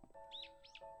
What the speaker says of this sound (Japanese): あれ、どうしたの鳥さん。